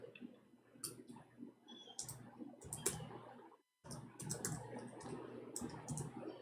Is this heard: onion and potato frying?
no